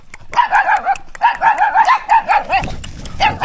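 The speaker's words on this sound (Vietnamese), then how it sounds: "quá trời chó luôn" Several dogs in the Vietnamese countryside bark at a passing mountain bike in rapid overlapping bursts of yapping, loud and fairly close, with brief pauses and then more barking.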